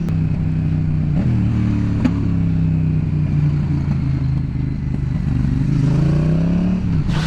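Several smoking cars, burning oil and trailing white smoke, pass nearby with a steady loud engine drone and slowly shifting pitch, running continuously and alone.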